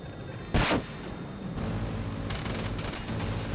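Jet cannon fire in Battlefield 2042, with a sharp loud burst early on and then a sustained dense rumble of gunfire and engine roar continuing to the end, with no talking.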